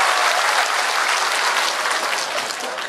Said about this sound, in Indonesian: Tepuk tangan ya Pak Ganjar.